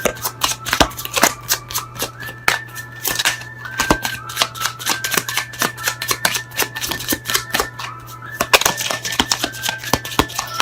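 Tarot-style oracle cards from the Pure Love Oracle deck being shuffled by hand, a steady run of crisp riffling and flicking taps over about ten seconds, close and fairly loud, with a constant low hum underneath.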